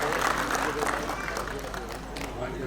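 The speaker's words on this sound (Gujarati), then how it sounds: "આવો આપણે તાળીઓના જોરદાર ગુંજારો તેમને વધાવીએ." A civic-event audience claps steadily to welcome a cabinet minister, filling the space with dense, continuous applause mixed with crowd murmur.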